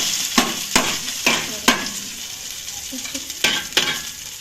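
Ginger garlic paste sizzling in a hot pan, with repeated sharp scraping stirs of a spatula against the metal over a steady frying hiss, close and clear, no voices.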